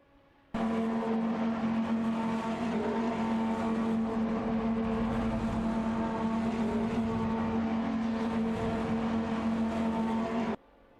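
Dodge Charger RT11 and Tavria Tuscan S racing in a video game: a steady, loud engine drone with a strong tonal hum holds throughout, cars running continuously with no voices.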